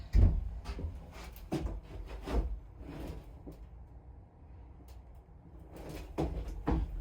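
A homemade shower door built from an IBC tote, with several hollow knocks, bumps and scraping clunks as it is moved and shut, spread across the clip with quiet gaps between them.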